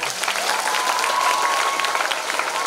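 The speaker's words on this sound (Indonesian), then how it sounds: "Anak-anak tepuk tangan untuk Bapak Gubernur." Schoolchildren clap for a provincial governor during his visit to a school in Kupang, a dense, sustained round of applause from a crowd filling the space.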